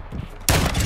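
A single loud shotgun blast fires in Modern Warfare 2, sharp and close after a short stretch of quiet game ambience.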